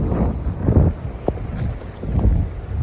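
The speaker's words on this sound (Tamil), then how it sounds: "காற்று கடுமையாக அடித்து கொண்டு இருக்கு." Strong wind gusts outdoors buffet the microphone in uneven low rumbling surges that rise and fall throughout, with no talking.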